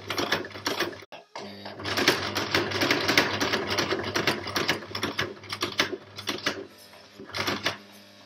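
Sewing machine stitching an adjustable dog harness, a rapid close mechanical rattle running in bursts with short stops, stitch width set to 3 and a backtack at the start.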